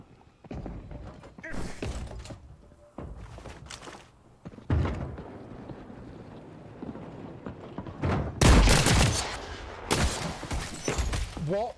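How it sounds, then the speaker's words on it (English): A shotgun and other gunfire ring out in the first-person shooter The Cycle: Frontier, as several loud, sharp bursts that grow heavier near the end, with thuds and movement between them. "I just shotgunned it point blank."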